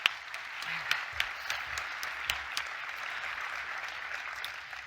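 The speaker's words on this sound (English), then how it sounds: "So a big round of applause for Dr. Wilkins." Audience applause at a sports medicine annual meeting, a faint steady patter of clapping from a seated crowd with a few sharper individual claps, heard from a distance with no talking.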